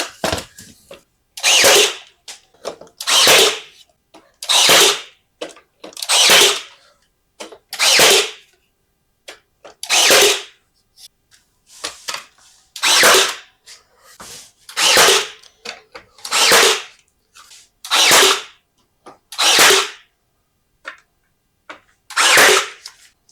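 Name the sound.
Ryobi lithium brad nailer firing nails into trim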